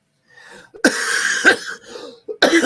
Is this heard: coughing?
yes